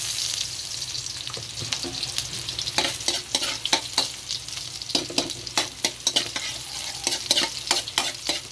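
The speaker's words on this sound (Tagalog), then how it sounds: "Gigisa lang tayo ng bawang. At sunod natin ng sibuyas." Garlic and onion sautéing in a pan for pakbet, a steady sizzle broken by repeated scraping stirs of a utensil against the pan, close and fairly loud.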